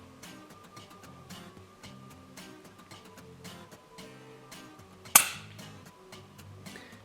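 A single sharp gunshot fired at red-winged starlings during pest control, a sudden crack standing out against a quiet outdoor background of faint rhythmic noise.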